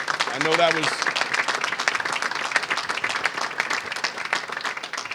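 An audience at a press conference on a new worker protection unit bursts into steady applause right after a brief spoken phrase, the dense clapping filling the room and continuing for several seconds.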